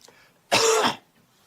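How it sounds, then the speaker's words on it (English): A single short, forceful cough close up, about half a second long, standing alone in an otherwise quiet indoor setting. "Say ah. Cough."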